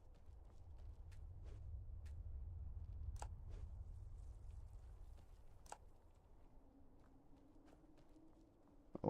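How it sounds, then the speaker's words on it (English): Horse hooves in the video game Skyrim, a faint irregular clip-clop of footsteps over a low rumbling game ambience, with scattered sharp clicks. "A horse."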